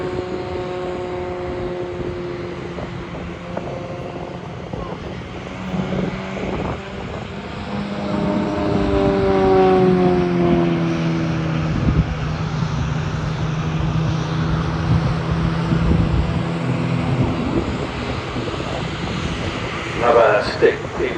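A Starlings team aerobatic aircraft at Farnborough Airshow 2024 drones steadily overhead through rolls and tumbles, its propeller engine pitch sliding up and down as it passes, with a commentator talking over it.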